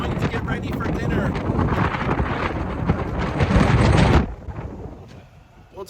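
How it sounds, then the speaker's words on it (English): Strong wind buffets a microphone on the open deck of the cruise ship Celebrity Summit at sea, a loud continuous roar and rumble that cuts off abruptly near the end, leaving a quieter background. "it's quite tricky with the wind blowing all of us in all directions"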